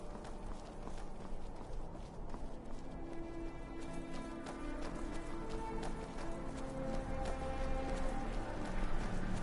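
Horse hooves clip-clop steadily in the video game Skyrim, a quiet continuous trot under soft game music and ambience.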